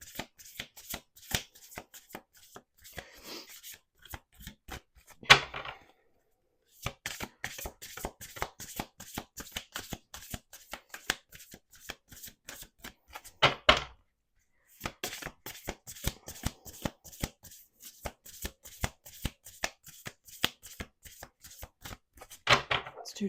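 Repeated riffle shuffles of a deck of cards, each a quick rattling burst, in several rounds separated by short pauses.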